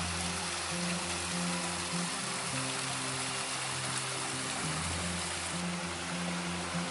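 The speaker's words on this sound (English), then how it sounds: "Just come down the bottom of the waterfalls and another separate smaller fall. It just keeps going down into the gully." Waterfalls in Blackdown Tableland National Park pour down into a rocky gully, a steady broadband rush of falling water that holds constant throughout with a low rumble underneath.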